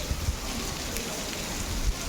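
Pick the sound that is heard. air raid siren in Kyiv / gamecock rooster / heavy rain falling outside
heavy rain falling outside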